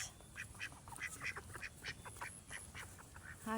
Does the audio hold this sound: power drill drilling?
no